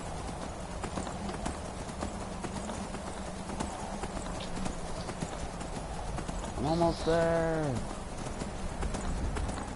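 Horse hooves clip-clopping in the Skyrim video game, a steady rhythmic trot under a voice, with a brief whinny-like call near the end.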